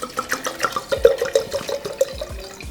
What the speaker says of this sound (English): Then we just pour the wine into the glass.